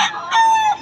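Rooster at a crowded fowl market in Bukawi lets out a short, loud crow, close and clear, with a clucking note at the start.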